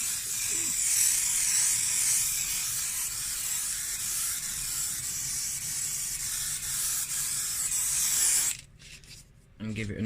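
Woodland Scenics layering spray hissing from a loaded applicator hopper onto model railway hill and quarry wall scenery, a loud, steady, close spray that runs unbroken for about eight seconds before cutting off abruptly.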